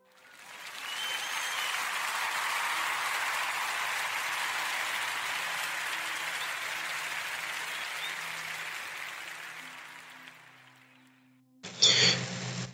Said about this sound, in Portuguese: eu quero pedir a toda a gente uma enorme salva de palmas